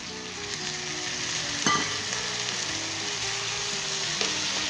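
Okra frying with potatoes makes a continuous close sizzle, broken by a couple of brief scraping stirs partway through, with no talking.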